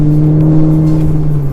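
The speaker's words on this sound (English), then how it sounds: "the engine like roars at you" A Maserati GranTurismo V8 engine roars loud and close in a steady, deep sustained growl with no voices over it.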